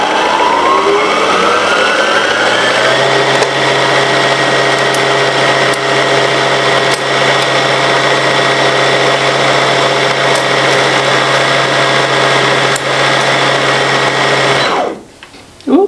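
A sewing machine winding a bobbin gives a loud, steady motor whir that rises in pitch as it spins up, runs evenly for about fifteen seconds, then cuts off abruptly, with no talking.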